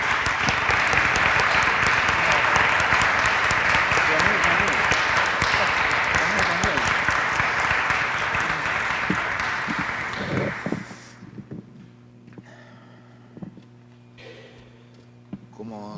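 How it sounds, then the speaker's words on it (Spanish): Loud, sustained audience applause fills a large hall for about eleven seconds, then cuts off abruptly, leaving a quiet room with a low steady hum. "Y por favor los invito con un aplauso al secretario general."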